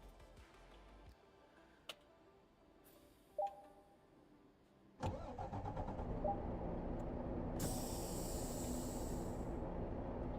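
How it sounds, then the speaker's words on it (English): Truck engine in American Truck Simulator cranks and catches about halfway through, then settles into a steady loud idle, after a few faint clicks and ticks. "start the engine, follow the instructions"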